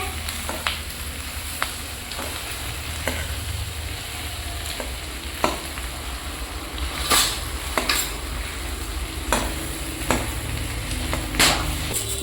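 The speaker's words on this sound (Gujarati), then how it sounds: "બટાકા ફ્રાય થાય છે હવે।" Potatoes frying in a pan for bataka bhungla, a steady close sizzle with occasional sharp scrapes and knocks of a spoon stirring against the pan, no talking.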